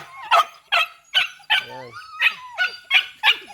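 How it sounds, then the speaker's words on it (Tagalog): Tigre, a loud, noisy dog, barks about eight times in quick succession, sharp, close and evenly spaced, with a short whine between some of the barks. "sa lahat ng aso ko guys, ito lang pinakamaingay"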